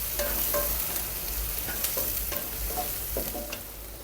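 Chopped onions fry in a pan for a cabbage and potato curry, a steady close sizzle with scattered scraping stirs and clinks, no voices.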